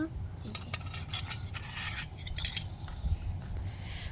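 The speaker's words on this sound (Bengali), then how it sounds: "এবার আমি চাপা দিয়ে দিচ্ছি বন্ধুরা" A lid is set over a pan of frying red spinach, giving a few close metallic clinks and scrapes over a steady low cooking rumble.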